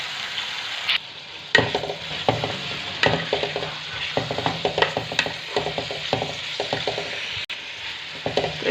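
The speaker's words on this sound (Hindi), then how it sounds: "हल्की आंच पे आपने इनको फ्राई करना है।" Bitter gourd (karela) frying in a pan over low heat, a continuous soft sizzle broken by repeated clattering stirs of a spoon against the pan, close and moderately loud, with no talk.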